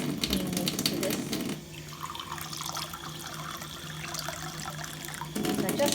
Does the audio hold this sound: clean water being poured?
yes